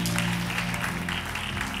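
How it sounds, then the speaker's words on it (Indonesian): Church congregation at an Indonesian-language online service clapping together, a dense, steady wash of applause heard close throughout the short stretch. "yang percaya boleh kasih tepuk tangan yang luar biasa bagi Yesus kita"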